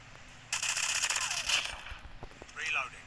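Rapid gunfire rings out while shooting an enemy in Call of Duty Mobile, a dense burst of shots at moderate distance followed by a short metallic ring, with faint talk in the background.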